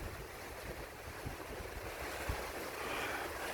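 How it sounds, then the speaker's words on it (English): Strong wind roars steadily outdoors at night in Hilo, Hawaii, buffeting the microphone with broadband rushing noise and occasional low thumps. "It's pretty windy out tonight."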